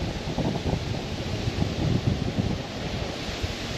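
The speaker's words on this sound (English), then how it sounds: "just because this wind is blowing so hard" Strong wind roars steadily over a muddy river during fall bass fishing in heavy current, a loud continuous rushing buffet with gusty low rumble and no talking.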